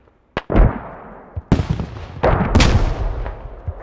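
Several grenades burst in a Squad match, sharp booming blasts with rumbling low tails arriving in an irregular sequence, some close and loud, others overlapping, with no talk.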